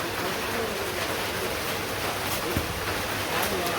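Heavy rain with big drops falls on a cement surface outdoors in a village, a dense, even downpour hiss that holds steady throughout.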